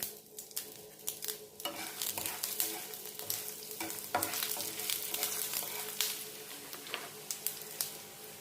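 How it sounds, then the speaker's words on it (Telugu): Dried red chillies roasting in a pan over a low flame, giving a steady close sizzle and crackle with scattered stirring scrapes and clinks, no voices. "ముందు ఎండుమిర్చి వేసాక సన్నమంట పెట్టండి."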